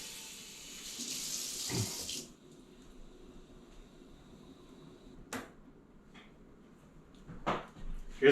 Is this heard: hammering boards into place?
no